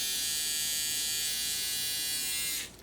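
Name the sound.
electric eyebrow trimmer buzzing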